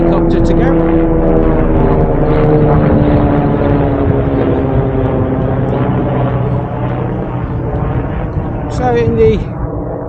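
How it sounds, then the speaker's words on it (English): A helicopter passes overhead with a loud, continuous rotor drone and engine whine that stays strong for ten seconds, easing slightly near the end, with a brief voice over the noise. "Let's wait for that helicopter to go."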